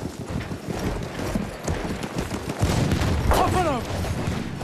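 Galloping horse hooves clip-clop in a steady rhythm amid Battlefield 1 combat, with scattered gunfire and battlefield noise around it and soldiers shouting over the action.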